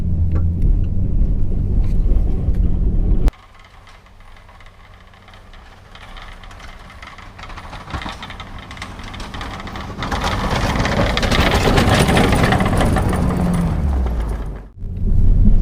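A Ford F-250 pickup fitted with a Meyer Diamond Edge 7.5-foot snow plow drives while widening a snowy road, its loud engine rumbling and rattling close by, dropping quieter, then swelling again into a heavy steady drone.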